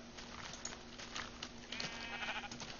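Sheep bleating in the video game Minecraft, a few soft bleats over a constant hum and background game noise, fairly faint with no talking.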